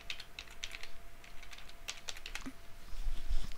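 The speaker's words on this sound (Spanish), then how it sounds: "Le tenéis que poner la contraseña" Soft clicking of keys as a password is typed on a computer keyboard, a quick irregular run of light taps, close and quiet with faint room hiss.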